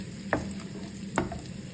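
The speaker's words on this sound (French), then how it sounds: "je me suis fait revenir les lardons avec un peu d'oignon dans une poêle" Bacon lardons and a little onion fry in a pan with a soft, steady sizzle, broken by two brief scraping stirs.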